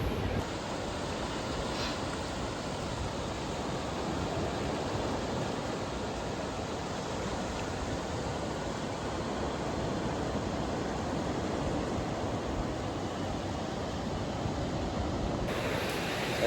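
Ocean waves at the sea in Bukana, a dense, continuous roar of surf with wind buffeting the microphone, steady and loud throughout with no voices heard.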